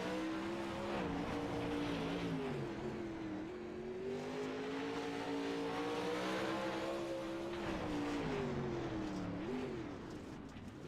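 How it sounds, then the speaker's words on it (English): A single race car out alone on a track, engine droning with rising and falling pitch as it accelerates and eases off, heard at moderate distance with no voices over it. "Right now, Ron is the only car out on track"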